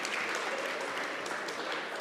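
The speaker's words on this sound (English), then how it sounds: "Let's give the MEC a round of applause" Audience applause at a SANTACO Gauteng taxi association press event, a steady wash of many hands clapping that fills the whole stretch at an even level, with no voices standing out.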